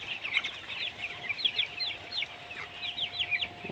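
Broiler chickens on a poultry farm at 17 days old cluck and chirp in short overlapping bursts, faint and somewhat distant over a low background hiss.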